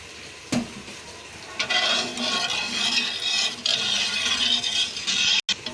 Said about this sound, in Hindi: अब इसको हम थोड़ा थोड़ा करके डालेंगे और साथ साथ चम्मच हिलाते जाएंगे